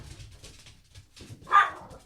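Dogs bark in a short burst, one loud bark near the end after fainter low yelps and rumbling; no talking.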